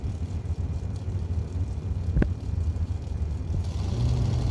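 Dragsters launching down a drag strip, a loud continuous engine roar with a sharp crack partway through and the sound swelling again toward the end.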